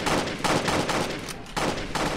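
Repeated gunshots in the Roblox Jailbreak game, loud bursts fired in a steady rhythm of about five or six shots with short gaps, no talking over them.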